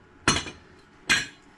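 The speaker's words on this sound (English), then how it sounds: "We'll take a hammer, tap that over and get it right." Two sharp metallic taps from a hammer knocking an EZ Inch block into place, spaced about a second apart, close and crisp with brief ringing decay.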